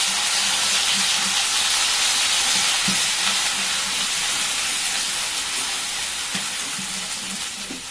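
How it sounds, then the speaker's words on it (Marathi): Roasted ground onion paste sizzling in a pan with cumin seeds, frying as part of a Khandeshi patvadi curry; a steady, loud, close hiss with occasional soft stirring taps and no talk. "जिरं तडतडल्यावरती हा आपण कांदा जो भाजून वाटून घेतलाय"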